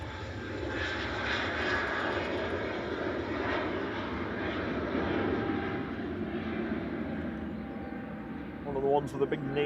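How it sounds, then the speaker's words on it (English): An EasyJet Airbus A320neo jet departs Manchester Airport for Malta with a steady, loud engine roar that holds throughout, while someone talks over it. "EasyJet's GUs and LX departing now to Malta with flight 2273."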